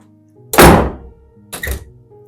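A door slamming shut as a sound effect in a basement scene, two heavy thuds about a second apart, the first louder and booming, the second shorter, both close with brief decay and no voices.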